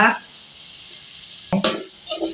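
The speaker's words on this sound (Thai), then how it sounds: "เดี๋ยวเราขอเวลาลูกๆ ทอด หอมของเราให้เหลืองสวยก่อนนะคะ" Shallots frying in oil in a pan, a steady hiss of sizzling broken by a few clattering stirs and scrapes of a utensil.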